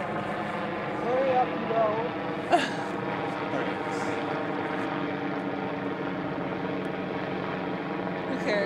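An airplane passes overhead outside a school, a steady broad droning roar that fills the background while people talk briefly nearby.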